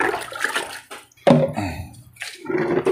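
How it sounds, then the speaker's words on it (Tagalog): Water gushes into a washing machine tub after a gear case and wash motor repair, arriving in loud, close bursts of splashing and rushing flow with brief pauses between pours. "Tapos lagay natin tubig."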